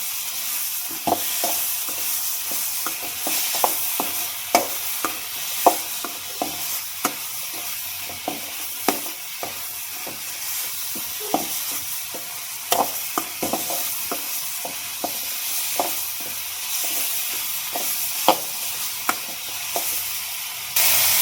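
Potato, horse gram and green gram roast in a pan with a low continuous sizzle, punctuated by frequent sharp scrapes and taps of a spoon stirring against the pan, close and steady throughout with no voices.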